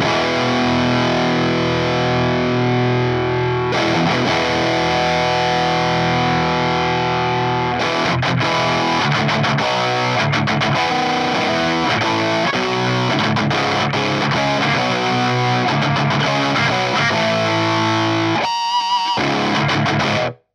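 Electric guitar run through a Lichtlaerm Audio Total Distortion Worship mk2 pedal with boosted high mids and highs, a loud, continuous dense distorted tone of sustained chords and riffing, with a brief drop near the end.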